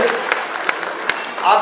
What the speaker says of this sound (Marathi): सर्व सभागृहांनी आपण टाळ्या वाजवून या कलाकारांचं अभिनंदन करूया.